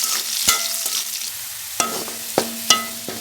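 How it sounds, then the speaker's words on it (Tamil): Garlic fries in hot oil in a pan with a steady crackling sizzle, punctuated by several sharp clinks and scrapes of a spoon stirring against the metal, close and loud. "பூண்டு நம்ம கொஞ்சம் கொஞ்சமாக போட்டு வறுத்து எடுத்துக்கலாம்."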